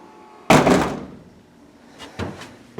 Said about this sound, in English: We're going to close it because we're going to ride back down.